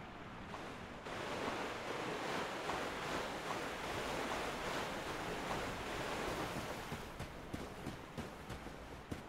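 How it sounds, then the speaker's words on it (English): A Dark Souls 3 character runs through water, a steady rushing splash and surf-like wash that carries on at an even level from start to finish. "You can run in the water."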